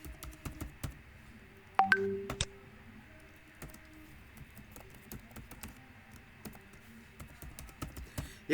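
Keystrokes on a computer keyboard as a confirm password is entered, a few quick clicks in short bursts, the loudest cluster near the start and lighter taps scattered through a quiet room.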